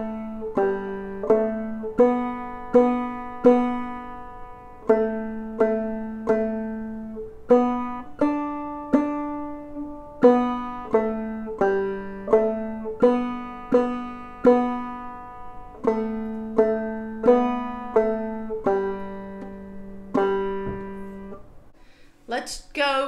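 Clawhammer banjo picks out the simple folk tune Mary as a clean melody, bright plucked notes ringing in a steady even rhythm, close and clear with no talking.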